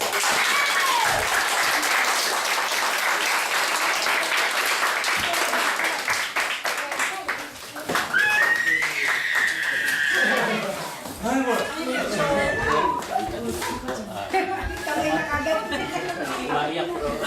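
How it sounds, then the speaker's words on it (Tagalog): Congregation at a church service claps for Jesus, a loud, lively burst of applause mixed with cheering, whoops and chatter, rising and falling over several seconds while voices shout over it. "Bigay natin yung lahat ng palakpak natin para kay Jesus."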